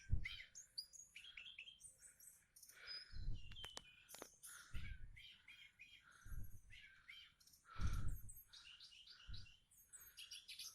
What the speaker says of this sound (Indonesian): sudah kedengaran suara kicauan burung